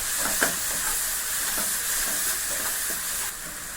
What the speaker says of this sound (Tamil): தக்காளி, வெங்காயம், இஞ்சி பூண்டு பேஸ்ட்டும் நல்லா செவந்து வர வரைக்கும் வதக்கணும்